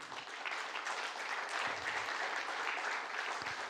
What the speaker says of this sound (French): Vous pouvez l'applaudir chaleureusement aussi.